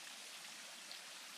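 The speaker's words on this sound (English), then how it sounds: "So this here is the little fountain that we saw last night in front of the cafe." A small outdoor fountain in front of a café at Paronella Park trickles with a steady, hissy wash of falling water, faint and even throughout with no other sounds.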